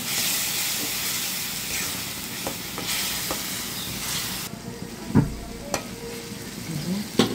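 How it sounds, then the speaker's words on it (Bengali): Onions stir-fry in a pan with ginger-garlic paste, salt, chili and coriander, giving a loud, hissing sizzle that quiets halfway through, then sharp spatula scrapes and taps. "স্বাদ মতো লবণ, মরিচ কাটলে, ধনিয়া কাটলে ভালো করে কষাই নেব।"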